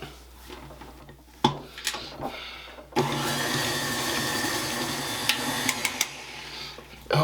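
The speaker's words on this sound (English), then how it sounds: "While we have our mixer going here" An electric mixer whirs steadily through fruitcake batter made with egg and orange zest, starting after a few knocks and running loud and continuous for the last few seconds, with occasional clicks of the beaters against the bowl.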